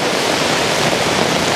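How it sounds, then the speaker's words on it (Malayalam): Heavy rain pouring near a waterfall, a loud, dense, unbroken wash of broadband noise close by, with no voices. "നല്ല കത്തുന്ന മഴയാണ്"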